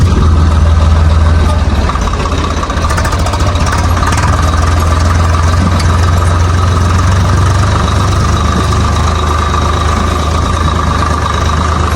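A farm tractor engine runs loud and close, a steady low rumble with a knocking idle pulse that holds evenly throughout with no voices.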